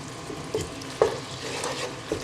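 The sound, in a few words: minced meat browning in a frying pan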